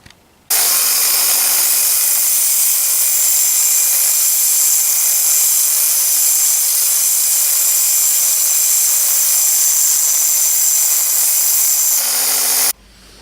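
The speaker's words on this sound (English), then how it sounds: "I could use the grinding wheel on a bench grinder" A bench grinder's wheel takes metal off a lathe part during a restoration, a steady, loud, high-pitched whine that holds for about twelve seconds and then stops abruptly.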